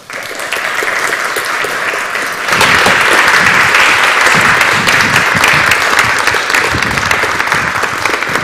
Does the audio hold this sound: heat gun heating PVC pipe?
no